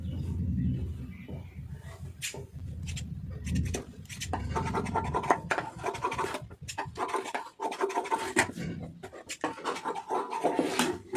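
Scissors snip through a blouse fabric strip in a quick run of rasping strokes, fairly close and steady, with some soft handling noise and no talking.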